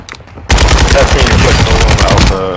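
Rapid, loud gunfire in a shooter video game, bursting in after a quiet start and rattling on in dense repeated shots to the end, with a voice faintly underneath.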